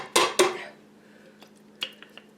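Leftover zucchini tipped from a jar into a gravy can: two loud clattering knocks close together, followed by a few fainter taps and clinks, with no voices.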